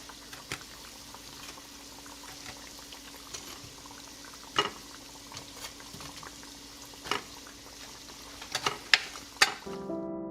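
Churro dough fries in hot oil over medium-low heat, giving a steady close bubbling sizzle with occasional sharper pops and crackles, no voices.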